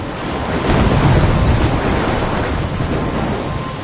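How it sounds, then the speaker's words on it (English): Heavy storm roar in the game Life is Strange: a dense, loud wash of wind-driven rain and rumbling thunder that swells after the first half second and holds steady, with no voices. "I'm trapped in a storm?"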